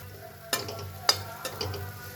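A spoon stirs leftover roti churma roasting in a pan with ghee and jaggery, giving three distinct scraping strokes over a soft, steady sizzle.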